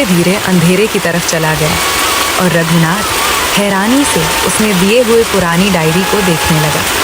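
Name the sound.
rain dripping on a tin roof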